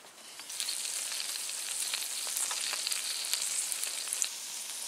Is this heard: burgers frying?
yes